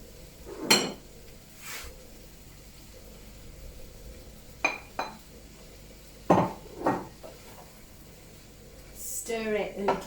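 Pots and cutlery clink a few times as mushrooms and turkey go into a pot for British-Irish style dumplings, with brief knocks and scrapes separated by quiet gaps.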